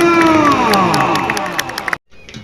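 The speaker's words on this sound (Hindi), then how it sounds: "कोई जोरदार तालियां" A crowd at a kabaddi match cheers with a loud whooping cry and scattered clapping, then the noise cuts off abruptly before softer clapping resumes.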